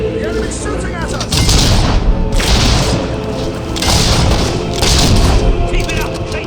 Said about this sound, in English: The enemy's shooting at us!